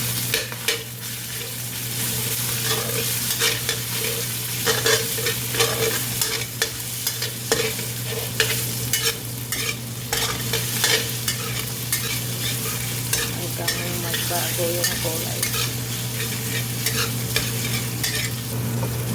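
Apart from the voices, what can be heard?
minced pork frying in pan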